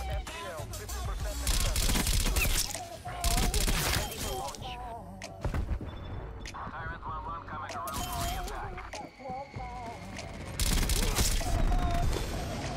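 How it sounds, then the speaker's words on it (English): Strafe run gunfire in Call of Duty Cold War, with bursts of rapid shots, impacts and booms in repeated passes. The noise surges and fades between quieter stretches, with game sounds underneath. "I think the strafe run's got a couple more passes here."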